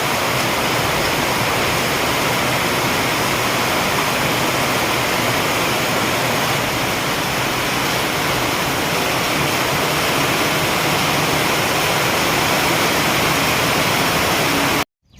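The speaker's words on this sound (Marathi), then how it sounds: "पाणी पाणी होतं एवढा सारा पाऊस चाललेला आहे" Heavy monsoon rain pours in a dense, unbroken hiss, loud and steady throughout before cutting off abruptly.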